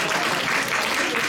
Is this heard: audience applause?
yes